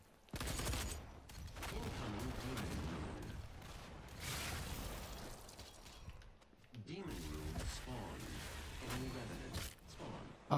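Rapid gunfire from a weapon in the DOOM beta on PS4 comes in dense bursts of sharp shots, loud and close, with short breaks between volleys and mechanical clatter around them.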